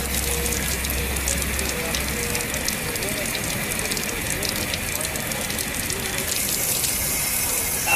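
Water runs steadily from a public drinking fountain outdoors, a continuous broadband splashing rush that stays loud and unbroken throughout with no voices.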